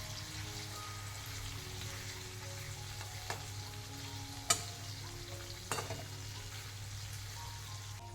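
Fish fries in a pan with a faint, steady sizzle over a low hum, punctuated by a few sharp clicks and pops.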